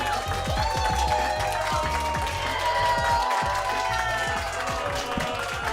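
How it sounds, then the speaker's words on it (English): A comedy club audience applauds and cheers for a comedian at the Lou Laugh Lounge, with steady dense clapping and crowd noise under loud, pulsing background music throughout. "Y'all make some noise for Mr. Marlon Mack. Clap it up, clap it up."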